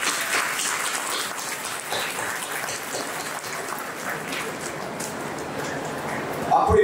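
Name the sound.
audience applause at school award ceremony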